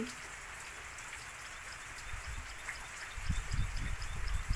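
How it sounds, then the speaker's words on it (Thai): Soft, steady rain patters in the background, growing a little heavier with louder drops hitting a surface toward the end. "ฝนก็ตก"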